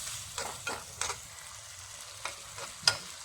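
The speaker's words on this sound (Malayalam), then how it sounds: "എന്നിട്ട് അതുകൂടി ഒന്ന് ഇളക്കി കൊടുക്കാം." Aloe vera pickle with chilli powder and lime juice is stirred in a pan, giving soft, irregular scraping strokes of the spoon over a faint sizzle, quiet and close, with no talking.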